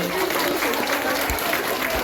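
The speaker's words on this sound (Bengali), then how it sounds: "সবাই জোরে হাততালি দিয়ে একে" Applause at a school welcome ceremony as an eighth-grade girl is named the year's best student, dense steady clapping from a crowd lasting a couple of seconds without a break.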